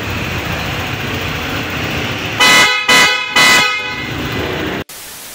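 A loud, bright aftermarket PIAA horn on a Honda ADV150 scooter blares in three bursts, the first long and the next two shorter, over steady engine idle, then cuts off abruptly.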